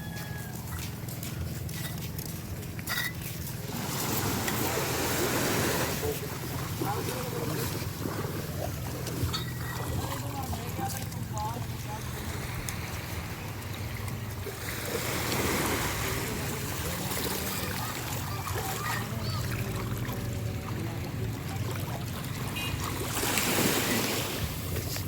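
A boat crosses sea waves while island hopping around Caramoan, Camarines Sur, in the Philippines. A low, steady engine drone mixes with rushing water and wind, quiet overall, with surges of spray noise.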